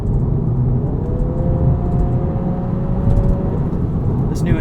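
A 2023 Acura Integra A-Spec with a CVT, driven with the transmission in sport mode, gives a loud, steady cabin rumble of engine and road noise with a faint rising whine, no voices present.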